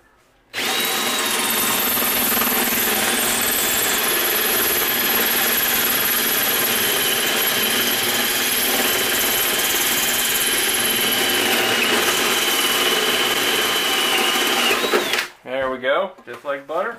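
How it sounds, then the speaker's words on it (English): A power drill with a hole saw grinds steadily through a metal ammo box at high pitch for about fifteen seconds, then stops abruptly; brief rattling follows. "Let's go ahead and drill the first hole."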